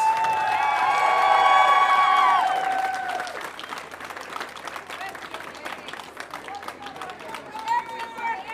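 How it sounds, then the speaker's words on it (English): Applause for medalists at a junior rowing regatta's victory ceremony, crowd clapping and cheering heard under a loud announcer's voice, with chatter continuing as the clapping carries on. "Let's have a big round of applause for our medalists."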